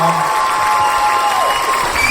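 An audience at an outdoor autumn concert in Gumi claps and cheers, a dense, loud wash of applause that runs without a break, with shouts rising above it.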